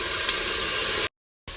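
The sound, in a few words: crushed garlic and onion sizzling while stirred in pan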